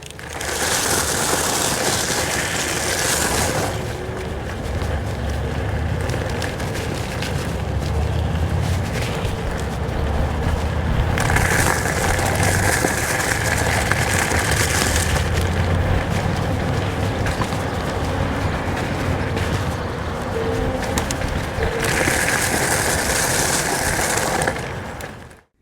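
A VMAX VX4 electric scooter rides onto gravel, giving a continuous coarse crunching and rumbling roll mixed with wind rush, swelling in louder bursts throughout.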